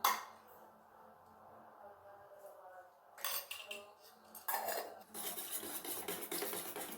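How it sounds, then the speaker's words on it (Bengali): Eggs being beaten with turmeric and salt in a bowl, giving soft clinking and scraping strokes in short bursts separated by quiet pauses, close by in a home kitchen. "ভালো মতো এটাকে ফেটিয়ে নিই।"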